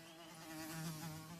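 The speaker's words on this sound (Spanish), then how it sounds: "Madre mía, las moscas" Flies buzz steadily in a zombies map of a video game, a dense, wavering insect drone that swells slightly and stays faint, with no voices.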